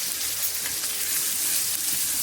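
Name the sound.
ginger and cumin paste frying in a pan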